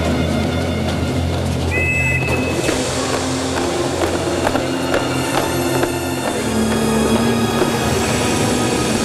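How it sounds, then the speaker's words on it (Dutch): A train running on rails, a steady loud rumble of wheels and carriages with a brief squeal and some periodic clacks throughout. "Gaat deze trein naar Lisse?"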